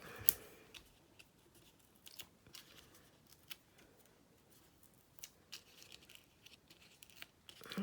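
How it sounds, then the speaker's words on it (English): Peeling backing paper off adhesive foam dimensionals while making a Stampin' Up Christmas card: soft, scattered crinkles and brief tearing ticks, close and quiet, with no talking. "I'm just peeling the backs off."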